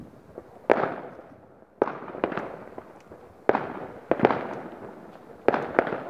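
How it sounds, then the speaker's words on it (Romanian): Loud New Year's Eve firecrackers bang outdoors in a series of sharp blasts, several rapid double cracks among them, each ringing out with a decaying echo. "Ăla-i pistol!"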